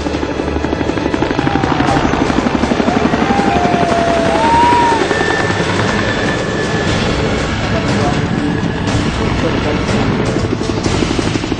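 A helicopter hovers low over a burning commercial building in Andheri, Mumbai, its rotor a loud, steady rapid chop throughout, with faint whistling tones and distant voices underneath.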